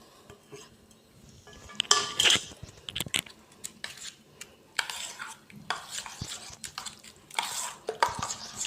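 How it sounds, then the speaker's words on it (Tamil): Spoon stirring chopped onion into thick yogurt for a pachadi, a series of close, wet clinks and scrapes against a bowl in irregular bursts, with quieter pauses between strokes. "இதை நல்லா கலந்துருங்க."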